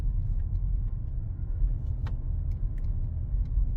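Car driving through a residential neighborhood, heard from inside as a steady low engine and road rumble with a few faint clicks and taps, no talking.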